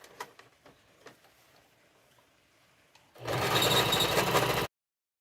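Sewing machine stitching fabric pieces together for a duvet cover: a few soft handling clicks, then a loud, fast mechanical whirr of stitching for over a second that stops abruptly.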